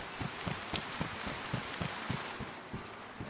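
Rain falls in the video game DayZ as a soft, steady patter with irregular droplet taps, quiet and continuous with no talking.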